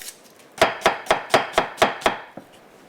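A kitchen knife chops through an onion on a cutting board in about eight evenly spaced, crisp strokes, close up and alone, without any voices.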